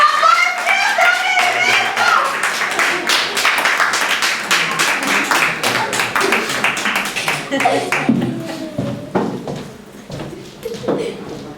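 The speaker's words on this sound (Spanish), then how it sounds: "Un fuerte aplauso para ella" Sustained, dense audience applause for an actress after a poetry performance at Baba Bar in A Coruña, loud and steady with some voices and cheers mixed in, thinning out toward the end.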